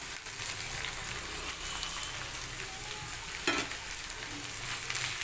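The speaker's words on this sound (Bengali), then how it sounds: "আমার পেঁয়াজ ঢ্যাঁড়স ভাজা হয়ে গেছে এবারে আমি এর মধ্যে দেব মাছের ডিমটা" Okra and onion fry in a pan as fish roe is added, giving a steady, close sizzle with a brief clink of utensil against pan partway through.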